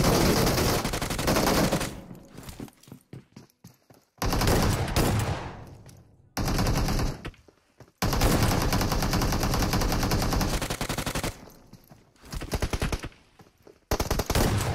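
Video game shotgun gunfire, loud and close, in rapid bursts and repeated blasts separated by brief silences, with the firefight continuing throughout and no talking.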